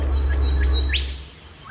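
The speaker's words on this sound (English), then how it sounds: "Peace and quiet, the only sound you can hear is bird song." Birdsong in bush wilderness by the Clyde River: a few short, clear chirps and one rising whistled sweep over a quiet, low background hum.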